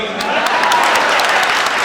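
A crowd at a Hindi comic poetry gathering claps together, dense and loud, sustained evenly throughout the short burst.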